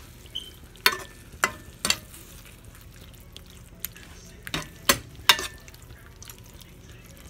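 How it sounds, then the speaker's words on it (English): Hot okra and shrimp mixture for Creole frying in a pan, a faint low sizzle punctuated by several sharp scraping clacks of a spoon stirring against the pan, with no voices. "We're going to stir it up. Let it get really hot again."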